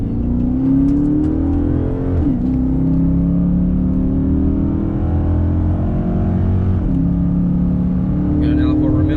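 Chrysler 300 with a 5.7L Hemi V8 and Corsa Extreme catback exhaust, heard from inside the car: a deep, loud exhaust drone rises through the revs, dips at two gear shifts, then climbs again.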